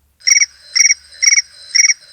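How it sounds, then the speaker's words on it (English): The Apple iPhone Crickets ringtone plays four evenly spaced bursts of rapid electronic chirps, each a quick pulsing trill, clear and close with silence between. "Well, it does sort of sound like crickets, so the title makes sense."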